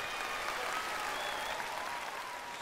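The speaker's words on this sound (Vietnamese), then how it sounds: "Ok, một tràng pháo tay dành cho tất cả chúng ta." A studio audience at a TV talent competition show breaks into sustained applause, a dense, even wash of clapping that holds steady for the whole stretch, with faint voices underneath.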